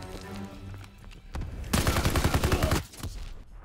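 Rapid bursts of gunfire in Call of Duty: WWII, with a few single shots followed by a loud sustained volley of automatic fire lasting about a second.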